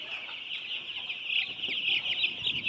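Broiler chicks cheep and cluck in a steady, fairly loud high-pitched chorus up close, with chirps overlapping continuously throughout.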